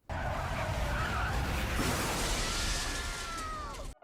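A movie car crash, loud and steady, with a roaring rush of noise and crunching, and a screech-like whine near the end before it cuts off.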